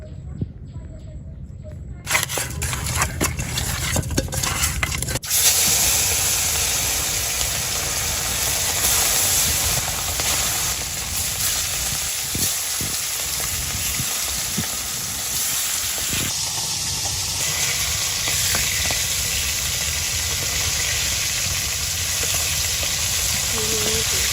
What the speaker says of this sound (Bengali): এদিকে মাছ ভাজির জন্য কড়াইতে তেল বসাই দিছি